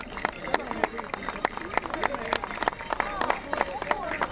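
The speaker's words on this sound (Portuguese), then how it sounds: "Pedi um forte aplauso para eles." Applause for a Portuguese folk dance troupe (rancho) at an outdoor festival, a dense patter of many hands clapping steadily with crowd murmur and scattered voices mixed through, sustained and fairly close.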